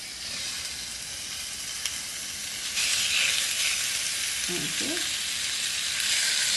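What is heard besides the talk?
food sizzling in hot pan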